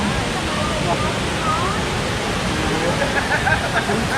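Steady broadband rushing of the Jed Sao Noi waterfall at Muak Lek reservoir, a continuous close wash of falling water with no pauses, filling the scene at an even level throughout.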